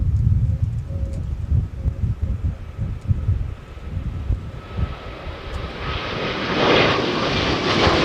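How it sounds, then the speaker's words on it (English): A Delta Airbus A321neo takes off from Minneapolis–St. Paul Airport, a low engine rumble growing into a loud, broad jet roar that swells toward the end. "we got one rocketing off for LAX"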